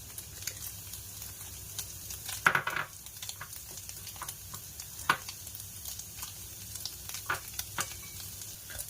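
Carrots and string beans stir-fried for fried rice in a hot pan, a steady sizzle with scraping utensil strokes and a sharper clatter near the middle, close and continuous with no talk.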